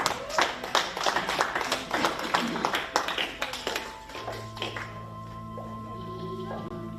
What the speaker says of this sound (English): Let's give a clap for Jesus.